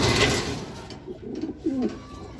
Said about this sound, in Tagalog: So ito yung ibon natin guys, si NH.